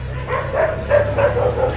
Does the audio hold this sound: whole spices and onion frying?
no